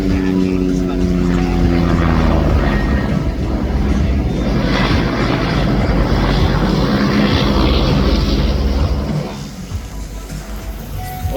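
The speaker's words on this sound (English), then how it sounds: "End it with the float plane." A float plane flying near an island fishing spot, its propeller engine droning loud and steady with a rough broadband roar that drops off toward the end.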